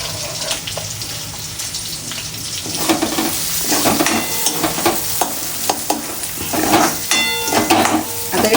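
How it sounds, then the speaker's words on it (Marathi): Finely chopped onion frying in plenty of oil until reddish, a steady loud sizzle with intermittent scraping stirs throughout. "हा कांदा बारीक तेल आपण त्याच्यामध्ये छानपैकी लालसर रंगावर तळून घेणार आहेत"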